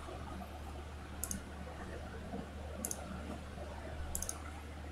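Computer mouse clicks sound as three sharp, faint double taps spaced about 1.5 seconds apart over a steady low hum and quiet room noise, with no talking.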